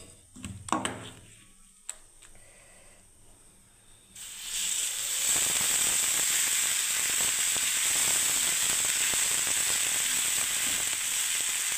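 Batter for mug dal chilla hits hot oil and fries with a loud, steady sizzling hiss that starts abruptly after a few quiet seconds with faint clinks, and carries on unbroken to the end.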